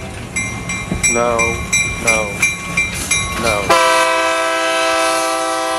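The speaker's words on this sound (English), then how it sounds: "I don't want you to play that train." Recorded train sound effects play in a studio: several rhythmic bursts of clacking and short horn-like blasts, then one long, steady, loud train horn chord. A brief spoken word is heard near the start.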